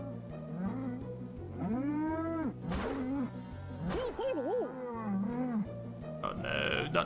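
Cartoonish cows moo in the South Park N64 video game, several drawn-out, wavering lowing calls over a steady game soundtrack with pulsing bass, loud and close throughout.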